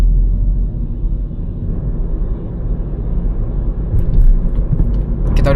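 A car driving on a German country road between Magdeburg and Braunschweig gives a steady low engine and road rumble from inside the cabin, swelling slightly as it picks up speed, with a few faint clicks near the end.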